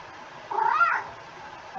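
A cat lets out a single clear, fairly loud meow, lasting about half a second, in an otherwise quiet moment.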